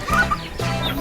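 A chicken clucks close by in rural Aloguinsan, Cebu, with a few short throaty calls in quick succession and no talking over them.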